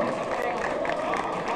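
An audience at a live concert at Sesc Consolação claps and cheers for the band, a dense and steady burst of applause that stays loud for the whole moment.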